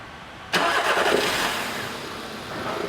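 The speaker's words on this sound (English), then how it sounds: "We're going to start the car up" A Skoda Rapid car engine cranks and catches at about half a second in, then settles into a steady idle, close and fairly loud, with no talking.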